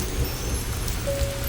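Steady soft rain patters continuously, heard from inside a train passing through a Japanese bamboo forest, with a low rumbling hum underneath and a faint thin whistle-like tone entering partway through.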